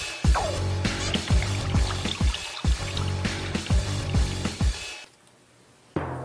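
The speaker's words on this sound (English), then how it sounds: "Now fill it up with water." Water poured into a taped-up column with holes in it, a steady splashing fill with gurgles and glugs rising in pitch, close and loud for about five seconds before stopping abruptly.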